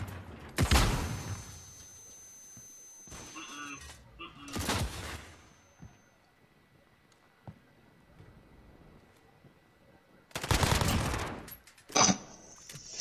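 Video game gunfire aimed at a dead body: a few loud bursts of shots separated by long quiet stretches, with faint background game sounds.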